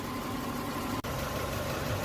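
A 1990s Toyota RAV4 engine idling during an oil flush, a steady low rumbling drone close by with one brief dropout midway, no talking.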